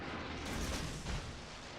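Heavy naval guns from a warship in World of Warships firing a salvo at a New Mexico battleship, a loud, dense rumbling barrage with two swelling booms inside a couple of seconds, no talking.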